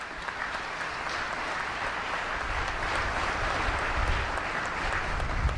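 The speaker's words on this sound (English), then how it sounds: "I would ask for a quick round of applause for all the folks who do this." Audience applause at a U.S. Indo-Pacific change of command ceremony, a steady, dense clapping from a large crowd that holds evenly for several seconds with no voices over it.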